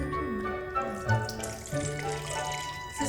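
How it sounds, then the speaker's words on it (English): Hot water runs into a teapot holding a tea bag at an 1850s-style tea party, a steady close trickle and splash lasting a few seconds without speech. "The tea bag should be placed in the teapot first, and afterwards add the hot water."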